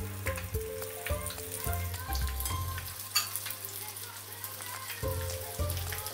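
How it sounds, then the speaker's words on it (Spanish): Tuna balls frying in hot sunflower oil, a busy bubbling sizzle like rain on a surface, with faint background noises and a brief dip midway before the crackle resumes. "También hay que freír de poco en poco para que el aceite no nos pierda a temperatura."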